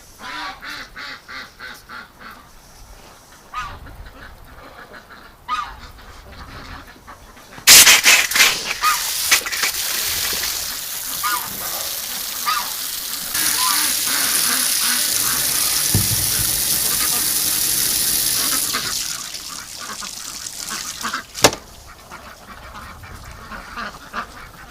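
Muscovy ducks and geese call nearby in a wet winter setting, with repeated quacks and honks at first, then a loud rush of running or splashing water that masks the birds for a long stretch.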